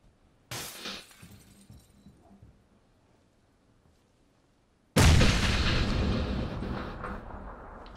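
A grenade in PUBG goes off after a long fuse: a faint, brief thud early on, then a sudden loud blast with a shattering, glassy crack that fades slowly.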